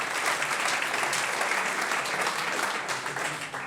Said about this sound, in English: I think that does deserve a round of applause to win the veteran